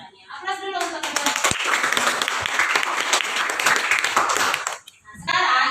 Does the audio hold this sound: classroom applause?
yes